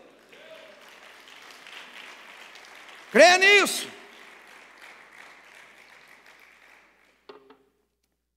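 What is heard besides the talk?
congregation applauding the Lord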